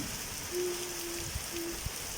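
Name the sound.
heavy rain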